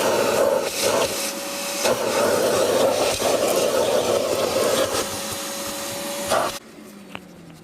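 A Vacatron vacuum cleaner cleans car carpets with a loud, steady roar close to the microphone, with slight surges as it works, until it cuts off abruptly near the end.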